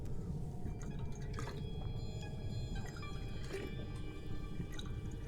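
A streamer gulps water close to the microphone, wet swallowing and liquid sloshing over a steady low hum, with several soft clicks and squishes across a few seconds and no talking.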